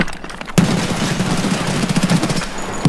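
Gunshots in Escape from Tarkov, a rapid, loud string of close shots crackling in quick succession after a brief quieter opening, with dense impacts throughout.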